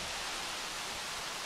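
Steady rain falling in the Jurassic World Evolution video game, a dense, even hiss of moderate loudness with no talk over it.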